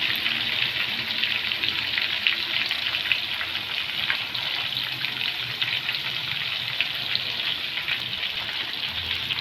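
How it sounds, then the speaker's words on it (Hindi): Masala-marinated fish pieces frying in hot oil for a Lahori fish curry, a steady, close crackling sizzle that holds evenly throughout with no speech. "ये फ़िश फ्राई होती है"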